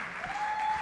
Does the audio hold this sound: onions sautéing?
no